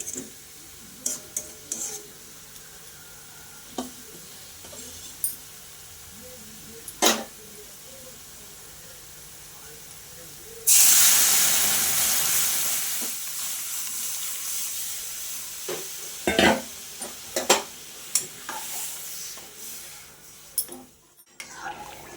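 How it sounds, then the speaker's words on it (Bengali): A sudden loud sizzle bursts in partway through as lentils are poured into hot oil with fried onions, settling into a steady hiss with occasional clinks of a utensil against a pan. "এবার আমি ডালটা ঢেলে দেবো"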